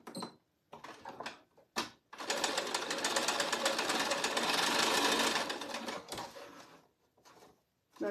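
Sewing machine stitching in rapid, even bursts, with one long steady run in the middle and shorter starts and stops around it, close by with handling noises between.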